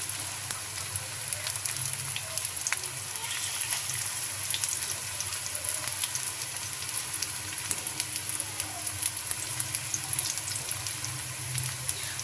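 Boiled, chopped water lily mixed with spices and rice flour frying in oil on a griddle pan: a loud, even, continuous sizzle with fine crackles throughout, no voices.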